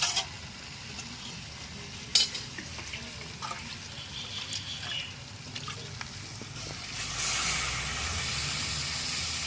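Spiced water poured into a pan of frying taro stolons, with a soft sizzle and a few utensil clicks before a louder, sustained hiss of steam and bubbling near the end.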